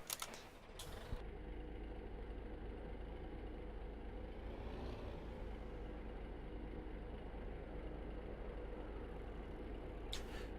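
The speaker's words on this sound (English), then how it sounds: "I guess we will have to turn the tractor on" Tractor engine in the farming video game Farming Simulator 15, a steady low rumbling drone running unbroken and fairly quiet throughout, with no voices.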